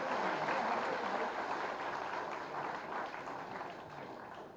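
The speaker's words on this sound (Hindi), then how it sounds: "एक बार तालियों के प्रणाम उन तक पहुंचाएं" Audience applause at a public event with Uttar Pradesh Chief Minister Yogi Adityanath, offered in honour of Pandit Deendayal Upadhyaya; a dense, steady wash of many hands clapping continues throughout, tapering slightly toward the end.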